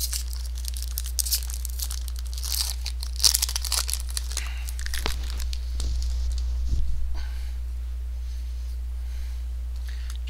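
Fate Reforged Magic: The Gathering booster pack wrappers crinkle and tear in close, irregular bursts of rustling, with a few louder rips partway through and no talking.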